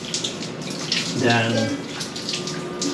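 Ice cold water, about 2 degrees Celsius, runs from a shower, a steady splashing stream with a brief louder gush midway; a voice speaks faintly under it.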